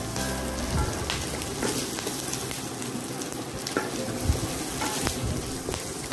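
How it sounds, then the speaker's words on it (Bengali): Chopped onion frying with ginger and garlic in a pan for a Chinese chicken and vegetable dish, a steady close sizzle with occasional stirring scrapes, no voices. "এটাকে আমরা একটু ভেজে নিচ্ছি"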